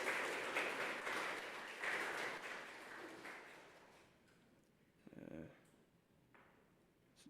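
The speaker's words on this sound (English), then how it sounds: "let's have a big round of applause for our AV tech person" A church congregation applauds their AV tech person during a Sunday service, a few seconds of moderate clapping that fades away, followed by quieter room sounds and a brief bump of noise.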